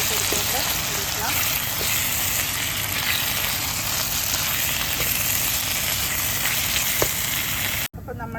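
Fish fries in hot oil in a pan, a loud, steady, close sizzle with occasional faint scrapes and taps of stirring, cutting off sharply just before the end.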